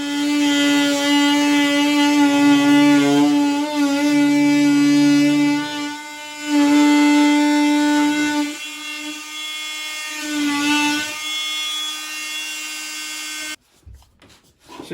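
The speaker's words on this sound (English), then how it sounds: "And so Barrett, you're gonna use the multi-tool." An oscillating multi-tool plunge-cuts into a wall to fit a rehab box for a receptacle and utility cabinet, giving a loud, steady, high-pitched buzzing whine that stops and restarts several times before cutting out near the end.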